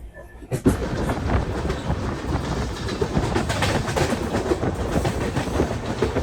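Mumbai Delhi YUVA AC SF Express train running on rails near Mathura Junction, a loud steady rumble with rhythmic clickety-clack of wheels over rail joints, heard from onboard.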